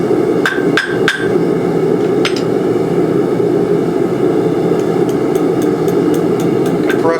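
A hammer strikes a forged flint striker pin on an anvil to flatten it: three sharp ringing blows close together, a lone hit a second later, then a run of lighter, quicker taps, over a steady background hum.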